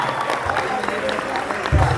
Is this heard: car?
no